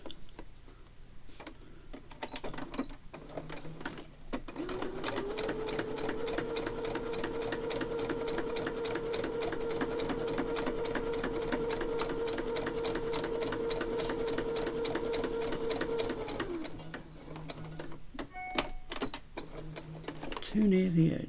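Small sewing machine stitching through paper, a rapid even run of ticking needle strokes with a steady motor hum, framed by slower clicks at start and end, while someone talks over it.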